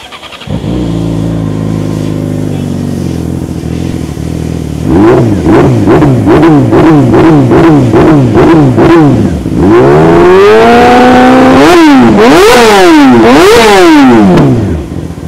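A 2015 Yamaha YZF-R6 with a Two Brothers exhaust starts up and idles, then is blipped through a series of rapid, rhythmic revs before climbing into several long, high-pitched screaming revs, very loud and close.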